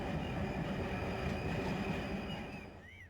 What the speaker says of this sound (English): They hear a train outside, they know, oh, they're going to hear us, so don't loiter on the tracks.